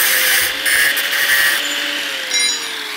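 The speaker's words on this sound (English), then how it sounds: "drill 2 holes in there" A power drill bores holes through plate steel for an EGR block-off plate, a loud, steady high whine with a faint falling motor tone underneath, close by and continuous, no talk.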